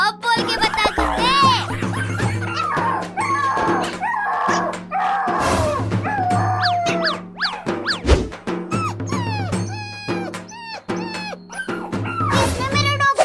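A dog in a desi comedy sketch yelps and whimpers in repeated high, sharp bursts, close and loud, mixed with vocal sounds.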